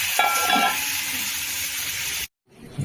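Fresh rohu fish heads sizzle steadily in hot oil, a close, bright frying hiss that cuts out abruptly near the end and then returns faintly.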